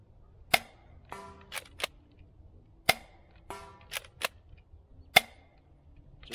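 A DZP Mk 2 dart blaster fires bamboo darts in three sharp, loud cracks spaced a couple of seconds apart, each followed by quieter mechanical clicks and rattles of cocking and reloading, with no voices.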